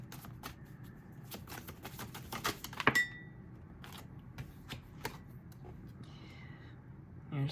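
Tarot cards being shuffled by hand in a quiet room, giving a soft, faint rustle with scattered light flicks and taps and one brief sharper snap partway through.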